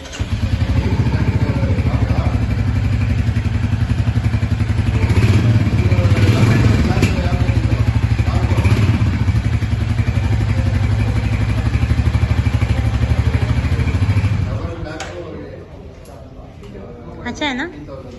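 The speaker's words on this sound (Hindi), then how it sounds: "बाइक को स्टार्ट कर रहा है। मैं इसके जरा साउंड भी सुन लूँ।" Royal Enfield Hunter 350 motorcycle idling after being started, a steady loud engine and exhaust rumble held for about fourteen seconds before cutting off, with people talking over it.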